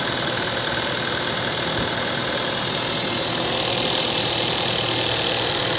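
A small turbocharged gasoline engine in a 2006 Chevy Corvette Z06 idles steadily with the hood open, a close, continuous mid-range hum with faint knocking texture and no voices.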